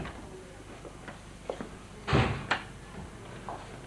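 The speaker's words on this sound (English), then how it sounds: "I think I'll go out through these doors again" French windows opening onto a patio give a few light clicks and rattles, then a louder thud of the doors swinging and a sharp latch click, against a steady low room hiss.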